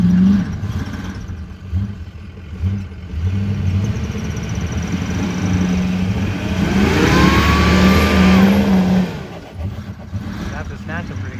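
Mud bog truck engine revving hard while stuck in a hole at a farm bog event, a loud sustained roar that rises and falls over several seconds, with crowd voices and talk around it.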